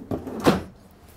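Drawers in the interior of a Southerly 480 sailing yacht at a boat show, sliding and bumping shut in two quick wooden knocks, the second louder, close by with no talking.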